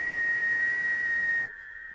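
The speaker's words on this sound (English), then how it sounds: "Everybody whistle." A single steady, high tone whistled by a group of people, held for about a second and a half, then cutting off abruptly, leaving a faint hiss.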